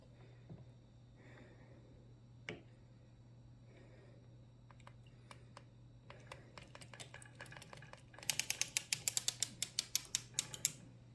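A circular sock machine knitting a sock, with a low steady hum under scattered mechanical clicks that build into a fast, loud run of rhythmic clacking near the end.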